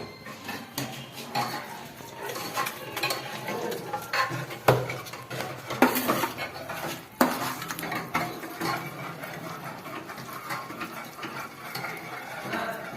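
Gram flour batter with onion and prawns is mixed in a bowl, with irregular scraping, clinking and knocks of a utensil against the vessel, some sharper raps standing out, and no talking.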